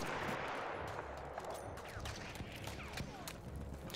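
Battlefield 1 gunfire on the Cape Helles map: scattered sharp shots crack over a busy, continuous battlefield din, a few louder reports standing out among distant firing.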